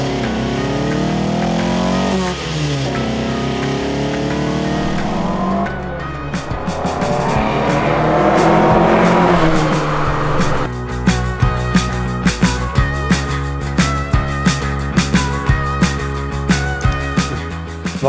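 An old Opel Kadett C Coupe race car roars past at speed, engine revving high through the gears before rapid crackling pops and backfires, very loud and close with no talk.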